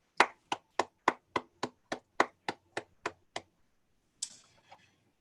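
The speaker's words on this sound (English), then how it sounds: "I'd like to lead a round of applause for Fleming for his support during this time" Roughly a dozen crisp, evenly spaced claps from a small group or a single person at a board meeting, close and dry, then a pause and a short scuffing rustle.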